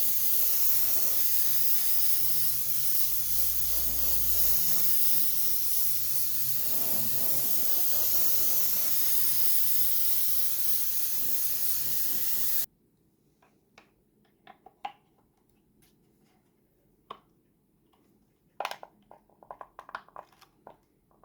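Vallejo matte varnish sprays onto a Meng Spice Harvester model kit as a steady, close hiss for about twelve seconds, then cuts off, leaving near silence broken by a few faint clicks and taps.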